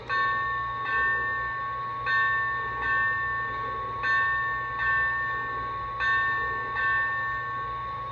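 A model locomotive's bell sound effect rings in a steady, evenly spaced rhythm, clanging repeatedly with a ringing tone over a constant low hum.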